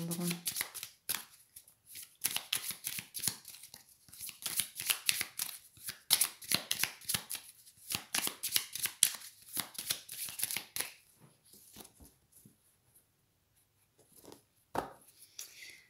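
Tarot cards are shuffled by hand in a quick series of crisp riffling bursts for about eleven seconds, then a few scattered soft taps as the deck settles.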